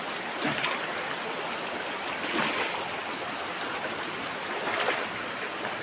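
Strong river current rushing steadily at a shallow crossing, a continuous broadband wash of water with slight surges, fairly close and uninterrupted, with no talk.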